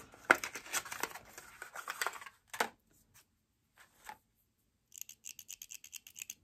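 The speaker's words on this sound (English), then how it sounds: "these I'm really excited about is their snips" Knitting snips with a leather sleeve give a few faint, crisp cuts and rustles, then a quick series of light metallic clicks as the blades open and close.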